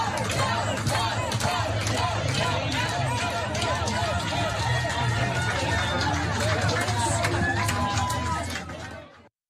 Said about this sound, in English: the crowd gathering outside began beating against the building's windows and yelling